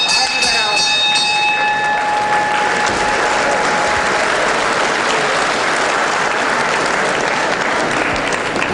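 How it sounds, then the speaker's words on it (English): Crowd applause between rounds at a 1978 boxing match, a loud sustained roar of clapping from a large audience filling the whole stretch, with a brief bell-like ring at the start. "It's just great to hear that applause for a couple of fellows putting a lot into the first 2 rounds."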